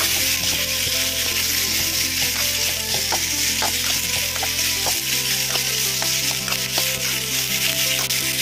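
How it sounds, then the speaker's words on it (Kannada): Spices and curry leaves frying in oil for raw tomato chutney make a steady, close sizzle with scattered crackles and pops, continuous and fairly loud throughout, with no voices. "ಇವೆಲ್ಲನೂ ಚೆನ್ನಾಗಿ ಫ್ರೈ ಮಾಡಬೇಕು"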